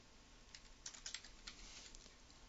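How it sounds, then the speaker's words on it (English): Faint computer keyboard typing, a short scatter of soft key taps over a low background hiss, with no talking. "so I'll go ahead and type that in."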